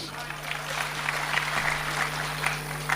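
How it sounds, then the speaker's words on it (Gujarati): An audience at a Gujarati dayro folk storytelling gathering claps in steady, dense applause, a moderately loud sustained patter with a faint background hum. "વધાવો જગદીશભાઈને તાળીઓથી વધાવો."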